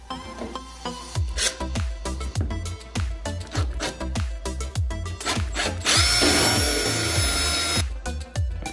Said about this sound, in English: we're gonna drill a little hole through here, just big enough to get this bolt through